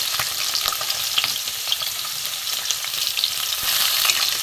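Bata fish frying in oil, a steady, dense, close sizzle with crackling that holds even throughout, no voices.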